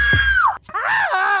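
A man yells loudly on command in a comedic police-station scene, letting out a long, strained, wavering shout that breaks off briefly and then continues, close up.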